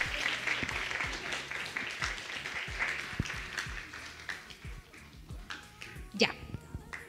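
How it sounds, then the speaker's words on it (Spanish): Applause from a church congregation during a Sunday service, steady clapping from many hands filling the room and slowly thinning, with voices talking underneath. "Un aplauso ahí para la mamita."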